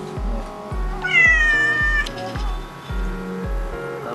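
A domestic mixed-breed cat (kampung Himalaya) meows repeatedly in short, close, rhythmic calls, with one longer drawn-out yowl partway through.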